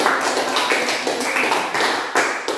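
A grade VIII Christian religious education class applauds, a steady patter of many hands clapping together at a fairly loud, close level with small surges in rhythm.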